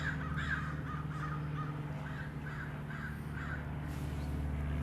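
Several crows caw in repeated harsh calls over a constant low mechanical hum, fairly distant and steady.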